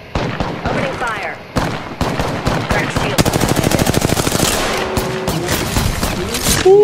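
Automatic gunfire in the Apex Legends video game, with rapid bursts of shots and a sustained stream of rhythmic fire in the middle, loud and close, with voices talking over the action.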